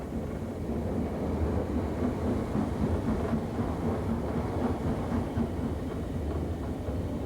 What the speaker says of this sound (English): We're now on the main Chester to Crewe line, and the engine itself is in reverse, and we're just approaching now.